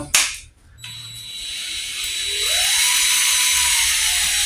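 An electric drill whines loudly up close, its pitch climbing as it spins up, then holding at a steady high-speed whir, used to spin a Matchless Model X motorcycle engine with a major misfire.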